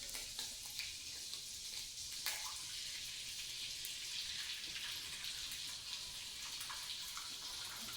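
An egg fries sunny side up in a pan, giving a steady, quiet sizzle with faint crackles and pops throughout and no voices.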